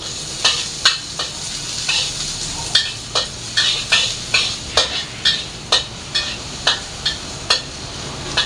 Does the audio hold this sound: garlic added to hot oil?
yes